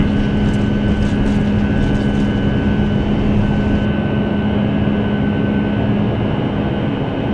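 Airliner engines roar through the takeoff roll on a flight from Qatar to Saudi Arabia, a loud, steady broadband rumble with a sustained tonal hum, heard from inside the cabin or cockpit.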